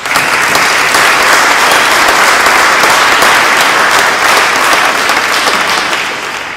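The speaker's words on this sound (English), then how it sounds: "Please give them a round of applause" Audience applause at an evening event honoring several people, a dense, steady wash of clapping from a large crowd that holds loud throughout before easing slightly at the end.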